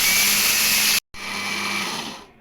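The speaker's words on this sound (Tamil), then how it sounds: "இப்போ இதை நம்ம என்ன செய்யணும்னா இந்த பிளெண்டில் வச்சு தூளை அரைக்க போகிறோம்." Kitchen blender grinding roasted rice flakes into powder, a loud steady high-pitched whir that cuts off abruptly for a moment, then restarts and runs again before winding down at the end, with no voices.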